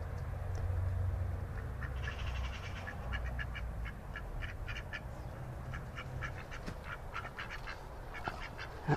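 Ducks quack repeatedly in a permaculture garden, a steady run of nasal calls at moderate distance over a low outdoor rumble, with no voices.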